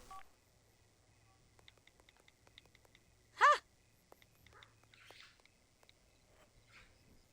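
Phone dialing tones in The Sims 4 video game: a few faint, quick tone blips, then one clear, louder beep midway, followed by soft scattered game sounds.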